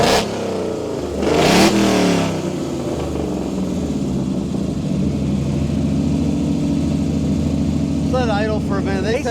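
A car engine cranks and catches with a brief loud burst, then settles into a steady, rumbling idle heard close by. A voice talks faintly near the end.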